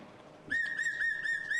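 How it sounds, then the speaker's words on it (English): A steady, shrill whistle blown outdoors in the cold, starting abruptly after a short pause and held for about a second with a slightly wavering pitch, fairly loud and close with no talking over it. "And then what do you actually blow the whistle? Blow the whistle."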